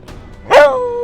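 A single yelping bark from a small dog with a ringing tonal tail, loud and near, heard during a Paris–Rouen velocipede ride with no talk over it.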